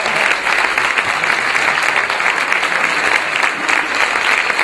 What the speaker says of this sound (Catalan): Aplaudiments per als professors de l'escola.